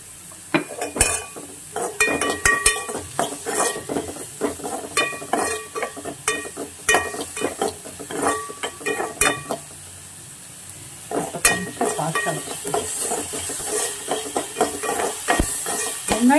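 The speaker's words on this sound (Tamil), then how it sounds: "வெங்காயம் வதங்கவும் செய்யணும், ஆனால் ரொம்ப கருகி போயிடக்கூடாது." Onions sauté and sizzle in a pan for an onion egg Maggi noodle breakfast, with repeated clinks and scrapes of a spoon stirring against the metal over a steady frying hiss, no talk.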